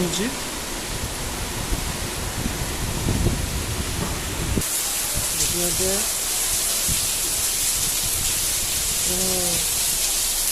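Heavy monsoon rain pours down in the evening with wind, a dense, loud, unbroken hiss filling the whole scene, while voices briefly speak beneath the downpour.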